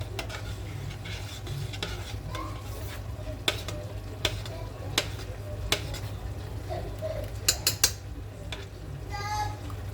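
A spoon stirs a flour-thickened soup in a cooking pot, soft scraping and swirling under a low hum, punctuated by several sharp clinks of utensil against metal.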